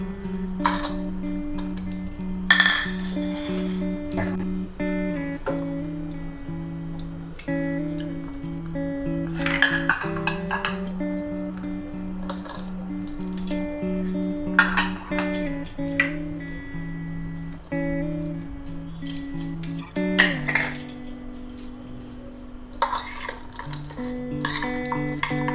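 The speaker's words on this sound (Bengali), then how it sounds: "এই সব উপকরণগুলো আমি একটা বাটিতে ঢেলে মিশিয়ে নেব।" Kolkata-style egg roll ingredients are mixed together in a bowl, with repeated clinks and scrapes of a utensil against the bowl over steady background music.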